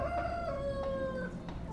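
Free-range garden chickens on a poultry farm, with one bird giving a long drawn-out crow-like call over a background of clucking flock noise, close and without people talking.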